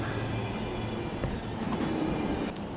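A train rumbles past on the tracks below a street in Yanaka, Tokyo, a steady close roar with faint rail clatter and no voices.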